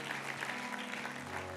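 Congregation clapping steadily during a church worship service, a continuous dense wash of many hands that fills the short moment with no other sound standing out.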